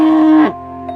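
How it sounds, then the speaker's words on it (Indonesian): A single loud, drawn-out cow moo that cuts off abruptly, followed by a faint tail of lowing. "Suara sapi melenguh keras"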